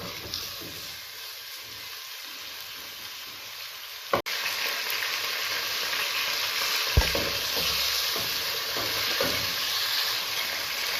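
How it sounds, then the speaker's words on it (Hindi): Chicken sautés with turmeric and salt in a pan for palak gosht, a steady sizzle under scraping stir strokes, with two sharp utensil knocks against the pan. "अच्छी तरह इसे भूनेंगे हम।"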